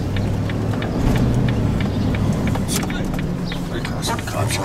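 A truck rumbles past close in front on a downtown street near a condo, a steady low engine roar with broadband traffic noise over nearly five seconds, with voices faintly mixed in.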